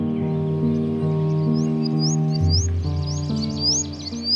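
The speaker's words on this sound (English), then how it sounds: "the Indian Bushlark" An Indian Bushlark in monsoon grassland at Bhigwan gives repeated quick rising chirps, clear and fairly close, over a steady sustained musical drone.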